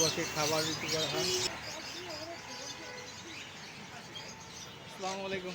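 Caged birds at the Katabon pet and bird market in Dhaka chirp and tweet in busy bursts, with cooing mixed in and people talking close by, loudest at the start and again near the end.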